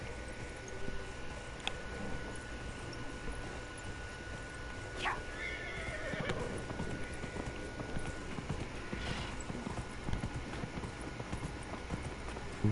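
Hooves clip-clop at a steady gallop from a horse in the Dragon Age Inquisition video game, soft and continuous across the whole stretch with a brief whinny-like cry partway through, no talk over it.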